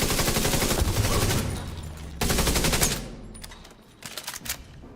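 Rapid video game gunfire, loud and sustained in dense automatic bursts, with a brief pause midway and a few scattered shots trailing off at the end.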